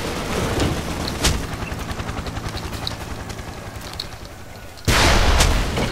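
Gunfire from a weapon in the blocky shooter Ace of Spades: a few sharp shots over a steady droning rumble, then a loud, heavy burst of fire near the end.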